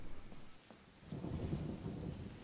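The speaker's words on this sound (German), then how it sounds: "Bitte kein Gewitter." A thunderstorm in the video game Genshin Impact: soft rain hiss, then a deep rolling thunder rumble swells in about halfway through and stays loud to the end.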